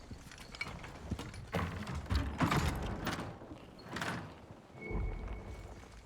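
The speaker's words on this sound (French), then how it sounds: "Juste fermer la porte." A door closing in the video game Dying Light the Beast, a series of mechanical sliding, grinding and clunking sounds over several seconds, with no talking.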